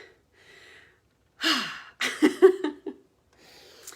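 A seminar presenter talking about children's music pauses to take a breath, with an audible inhale and exhale, then a short run of breathy, laugh-like bursts, close to the microphone amid near silence.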